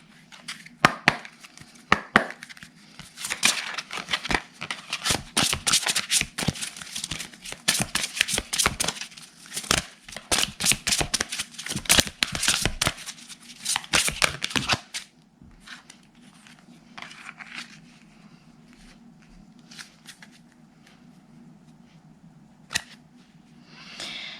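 Oracle cards of awakening are shuffled by hand in a long run of quick, crisp riffling and slapping bursts that then thin out into a few scattered taps and soft handling sounds, with no voice.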